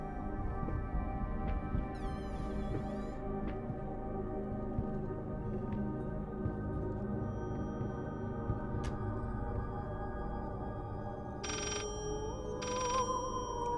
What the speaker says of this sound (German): Jetzt höre ich das Telefon hier.